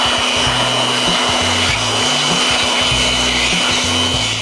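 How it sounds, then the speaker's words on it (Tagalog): A blower dries freshly cleaned angle grinder parts during a torque bearing replacement, giving a loud, steady close-up roar with a pulsing low throb beneath it, running continuously with no talk. "gagamit tayo dito ng blower para mapatuyo natin na maayos yung ating mga nilinis"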